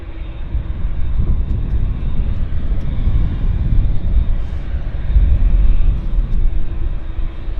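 A Boeing 737 MAX taxiing onto the active runway, a low rumbling engine drone that swells slightly and holds steady, heavy in the bass with a faint tonal whine above.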